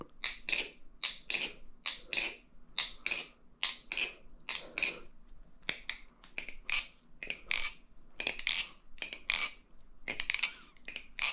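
Squid Industries Mako V5 balisong, freshly oiled with Carbon Honey, flipped in rapid bursts of crisp metallic clicks and rattles, close and loud, with short pauses between runs and no talking.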